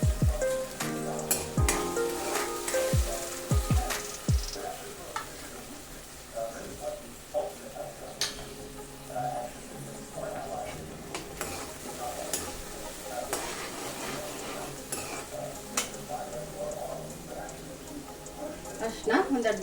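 Dry red and green chillies frying in oil for puliyogare, a continuous sizzle with spoon clinks and scraping stirs near the start, while a voice talks over it.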